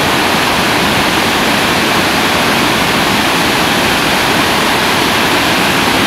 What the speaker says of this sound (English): The last drop of Superior Falls.